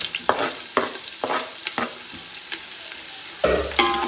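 Finely chopped small shallots fry in hot oil in a pan for a Kerala-style puli inji, with a steady sizzle broken by repeated sharp scrapes and clatters from stirring, close and distinct.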